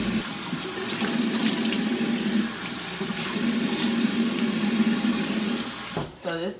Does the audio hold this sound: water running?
yes